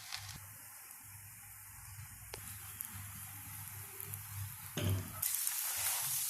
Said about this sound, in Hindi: अब हम इसको तवे पे डालते हैं। तवे पे थोड़ा सा घी लगा लिया।